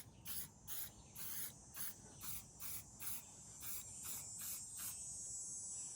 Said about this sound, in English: let's hit it with some SC1